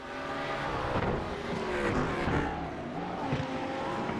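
Race cars lapping Laguna Seca in a sim racing game, GT cars in a sprint series, several engines droning and whining together with shifting pitch as they pass, loud and continuous with no voices.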